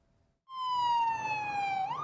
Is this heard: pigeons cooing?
no